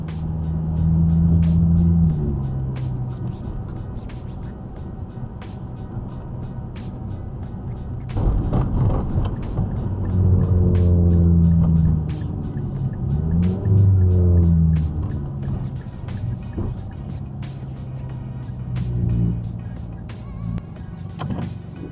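A car pulls away gently on light throttle while still warming up, its engine a low steady hum that swells and eases in several soft surges, heard from inside the cabin with no voices.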